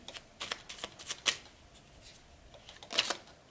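Tarot cards are shuffled and a card is drawn from the deck, with soft riffling and several crisp flicks and slaps close by, quiet between bursts.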